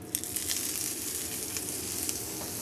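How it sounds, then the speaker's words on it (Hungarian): Potatoes fry in olive oil in a pan, giving a steady close sizzle with a few small pops and crackles throughout. "Én egy kicsit átpirítom ezen az olajon a burgonyánkat."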